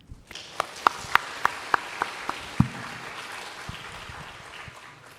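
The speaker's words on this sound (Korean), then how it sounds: "우리 다시 한번 박수로 축복하겠습니다." Applause from a church congregation following a testimony about mission work in Tanzania: a few sharp, distinct claps ring out at a steady rhythm, then fade into a softer, thinning patter that trails off into room ambience.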